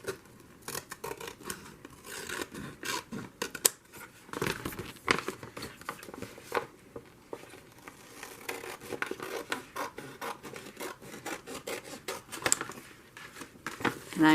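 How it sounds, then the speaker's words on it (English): Scissors snip through a paper bag being made into a journal, with a run of close, irregular crisp cuts, paper rustles and crinkles between them, and no one talking. "I'm going to cut this side off"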